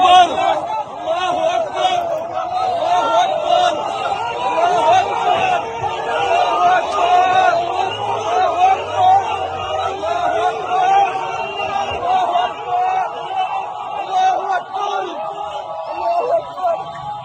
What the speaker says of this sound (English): They were cheering.